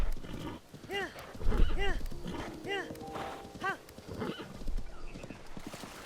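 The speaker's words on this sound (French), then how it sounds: "j'ai dompté le cheval" A horse in Zelda Tears of the Kingdom clip-clops with rapid hooves and lets out several high neighs, under someone talking in French.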